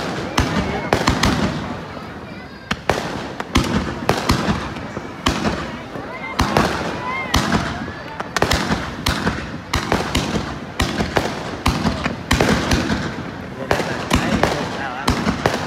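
Fireworks burst overhead in a dense, continuous barrage of loud cracks and booms that go on without a break, while a crowd's voices chatter faintly underneath.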